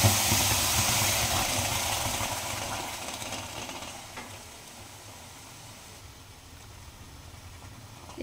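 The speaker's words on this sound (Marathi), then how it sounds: "एकदम तापलेल्या कढईमध्ये मी ते सारण टाकलं, त्याच्यामुळे अशी एकदम वाफ आली हातावरती" Broccoli and onion purée hits a very hot wok with a loud burst of steamy hiss that fades gradually into a softer, steady simmering sizzle, close by with no talking.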